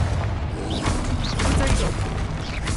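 Bombarda and Confringo spell explosions in Hogwarts Legacy combat, a dense run of booming blasts, crackling impacts and whooshing magic effects, loud and continuous with brief game voice sounds mixed in.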